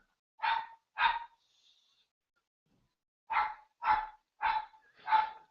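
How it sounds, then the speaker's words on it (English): Small border collie barking upstairs indoors, two sharp barks, a pause of about two seconds, then four more in quick succession, muffled and moderately distant with no talking. "my friend's dog barking upstairs. He's a little border collie"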